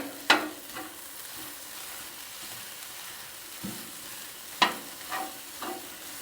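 Corned beef hash from a can sizzles steadily on a griddle while a spatula chops at it, giving a few sharp metallic scrapes and taps over the constant frying hiss.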